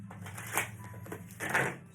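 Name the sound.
shuffling cards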